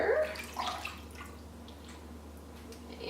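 Tap water running to soak sausage casings for bratwurst, a soft steady splashing and trickling stream near a sink, strongest at the start and continuing quietly throughout.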